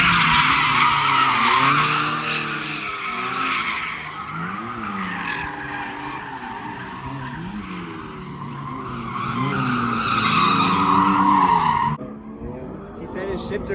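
Car tires squeal and skid at a race track as the driver pulls the e-brake, a long, loud screech with engine roar that rises and falls, then cuts off sharply near the end.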